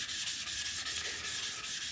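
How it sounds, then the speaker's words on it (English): A woodworking gouge is rubbed back and forth on a rough sharpening stone, making a loud, steady rasping scrape in even strokes about every quarter second. "I'm starting with a rougher stone because this gouge really needs some love"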